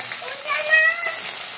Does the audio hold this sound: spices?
yes